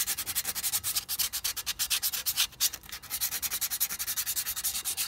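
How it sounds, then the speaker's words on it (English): Sandpaper rubs rapidly back and forth over the hard surface of car rear brake shoes in quick rhythmic strokes, scoring them, close by, with no talking. "all I do is just get some sandpaper and I just score up the shoes"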